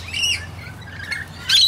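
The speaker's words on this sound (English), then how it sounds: "They're rainbow lorikeets, wild birds that have become used to me and they're not afraid of me anymore." Wild rainbow lorikeets at a bird sanctuary, sharp, shrill screeching calls in brief bursts near the start and end, with softer chatter between them, close and loud.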